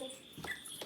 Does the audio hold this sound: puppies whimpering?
yes